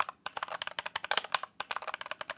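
Buttons on a Glyph fighting game controller clicking in rapid, uneven bursts, close and crisp, with a short pause midway.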